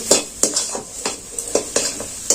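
Bottle gourd leaf roll filling seasoned with chaat masala is stir-fried in a kadai: a spatula scrapes the pan in a steady, repeating rhythm of about eight strokes, each stroke close and crisp over a faint sizzle.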